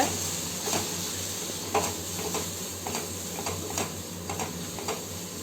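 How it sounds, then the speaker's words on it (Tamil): A ground chili and coriander masala is stirred in a pan for chickpea sundal gravy: a soft bed of frying sizzle with repeated light spoon scrapes and ticks against the pan, close and without voices. "நல்லா மிக்ஸ் பண்ணி விட்டுக்கோங்க."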